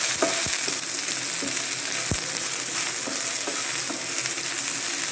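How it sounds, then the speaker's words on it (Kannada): Onion and chili frying gently on a low flame for a Mangalore village-style prawn curry, a steady close sizzle throughout with a few soft stirring knocks and scrapes, no voices. "ನೋಡಿ, ಈ ರೀತಿ ಫ್ರೈ ಮಾಡಬೇಕು ಲೋ ಫ್ಲೇಮಲ್ಲಿ."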